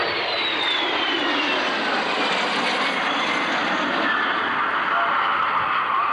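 Vampire jet aircraft passing at an air show, a steady broad roar of jet engine noise that holds loud throughout, with a faint descending whine sweeping across it.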